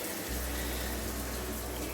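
A newly installed electric shower runs steadily, a continuous broad hiss of water spraying and splashing close by with no talk over it.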